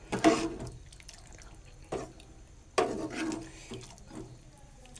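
Rajma cooking water being poured into a pan in a home kitchen: a few separate splashy pours and drips, each a short burst of liquid with quiet gaps between, close and moderately soft, with no talking.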